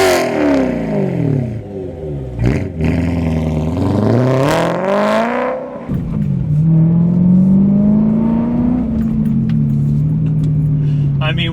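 BMW E92 M3 with its V8 and an aftermarket exhaust, revved hard several times in rising and falling sweeps, then settling into a sustained higher drone. Loud and close.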